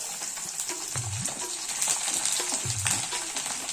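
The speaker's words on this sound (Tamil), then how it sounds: "இந்த பூண்டை போட்டு வதக்குவோம்" Chopped garlic sizzles steadily in hot oil with mustard seeds, with occasional stirring clinks and scrapes close by.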